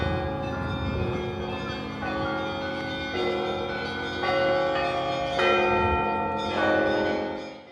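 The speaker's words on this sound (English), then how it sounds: "The beautiful bell ringing you hear comes from there." Church bells ring continuously at the Kremlin in Nizhny Novgorod, Russia, with rich overlapping tones, struck again every second or so, loud and resonant with no voices.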